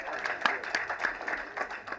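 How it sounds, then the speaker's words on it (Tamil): A crowd at a film audio and trailer launch event applauds, a faint, even patter of many hands clapping heard from a distance. "தயவு செஞ்சு நீங்களே ஒரு தடவை கைத்தட்டிடுங்க"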